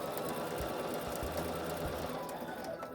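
A sewing machine runs continuously, joining quilt pieces with a quarter-inch seam, a steady close hum with a faint rhythmic needle pulse throughout.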